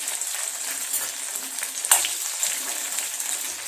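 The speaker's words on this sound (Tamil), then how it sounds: "வெங்காயம் நல்லா வதங்கிடுச்சு. இப்போ பூண்டு சேர்த்துடலாம்." Sliced onions and garlic frying in oil for a Tamil-style onion tomato chutney, a steady soft sizzle with faint crackles and one brief clink near the middle, no talking.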